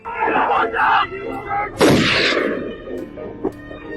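Gunfire in a police action film, The Rookies, bursts out amid shouting and a chaotic soundtrack, loud and close, with a sharp blast near the middle and smaller pops after.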